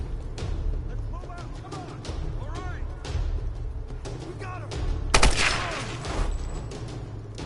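Gunfire in Tomb Raider Definitive Edition: scattered sharp shots over a steady rumbling game background, with one louder blast near the end and a voice talking throughout.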